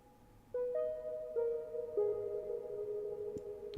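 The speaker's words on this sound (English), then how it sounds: "kind of extreme reverb that we get from here." Synthesizer wavetable tones drenched in extreme reverb: sustained pitched notes entering one after another and stacking into a long, shimmering wash that hangs and blends, quiet and alone.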